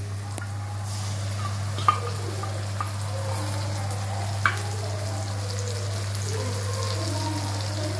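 Browned onions and spices fry in a pan with a steady, even sizzle and a low constant hum underneath, broken by an occasional soft tap of a utensil.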